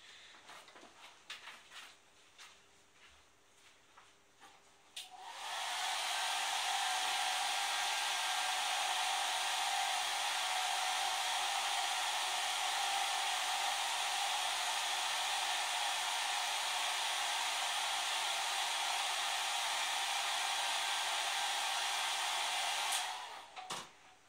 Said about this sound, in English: I'll go and give that a shot on the hairdryer.